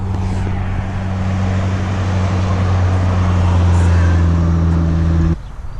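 A Chevrolet Silverado truck fitted with a K&N cold air intake drives along a busy back road, its engine producing a loud, steady low hum and road rumble heard from inside the cab, cutting off near the end.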